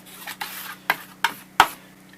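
A knife working along a walleye fillet under the scales, a handful of short dry scraping rasps spaced about half a second apart, close and fairly quiet, no talking.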